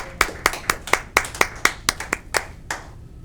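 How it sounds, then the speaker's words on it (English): An audience at a local evening talk show claps for a guest in a short burst of about a dozen distinct, evenly spaced claps, close and crisp, with no voices over them. "Let's get another round of applause"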